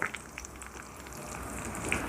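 Mustard seeds, cumin, dried red chilli pieces, asafoetida and curry leaves sizzle softly in hot oil, a quiet steady crackle with a few small pops.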